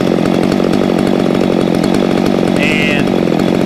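A Stihl MS250 chainsaw held at high revs, around 13,000 RPM, during carburetor tuning: a loud, steady, buzzing two-stroke wail that continues without a break.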